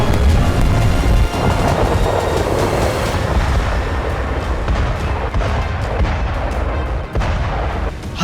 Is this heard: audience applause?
no